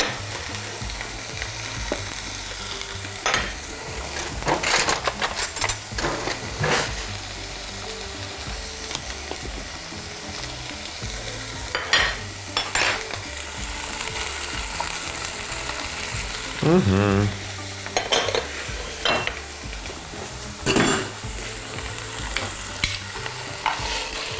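Meat sears in olive oil with a knob of butter, a steady sizzle running throughout with occasional louder crackles and scraping stirs, close by and moderately loud, no talking.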